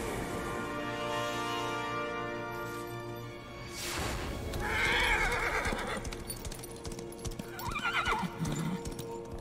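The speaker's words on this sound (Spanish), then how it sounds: "¿Qué le pasa a mi caballo?" A horse in the video game Darksiders III gives two loud, wavering neighs, one in the middle and a shorter one near the end, over steady clip-clop hoofbeats and low rumbling game ambience.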